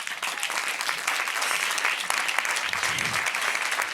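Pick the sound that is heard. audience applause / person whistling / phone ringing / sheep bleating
audience applause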